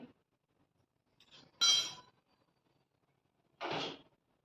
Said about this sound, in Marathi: उकळी येण्यासाठी मी झाकण ठेवले